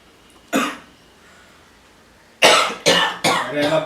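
A man coughs once sharply, then after a pause breaks into a fit of several harsh, loud coughs in quick succession, close by and in an ordinary indoor room.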